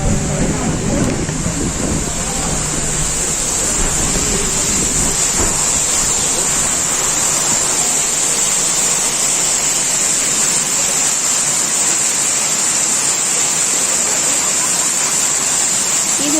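A waterfall at Eravikulam National Park roars in a constant, loud, broadband rush of falling water, with a voice briefly audible near the start.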